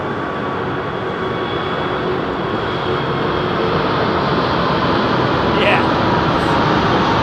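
A loud, steady jet engine roar from an aircraft departing Heathrow Airport fills the whole stretch with constant broadband rumble, with a brief word spoken partway through.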